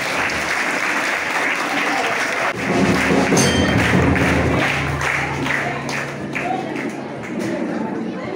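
A burst of loud applause from a crowd at an Independence Day event rises and keeps going steadily, with scattered sharp claps standing out near the mic.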